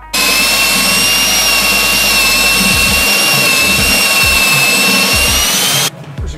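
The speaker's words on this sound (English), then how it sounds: "I'm going to have to find my step bit to drill that out a little bit more." A step bit drills out a hole in metal on an overland trailer, a loud, steady high-pitched whine of the drill that runs nearly continuously for about six seconds before cutting off.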